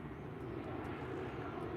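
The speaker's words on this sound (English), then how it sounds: "We have a plane go overhead, just ignore it." An airplane passes overhead with a steady, faint, broadband engine roar, heard alone and unchanging through the short stretch.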